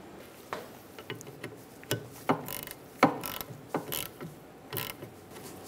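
Ratchet snugging a brake hose union bolt on a 2007-2012 Nissan Altima rear caliper: a string of close, quiet clicks in an uneven rhythm, about a dozen strokes, with no talk.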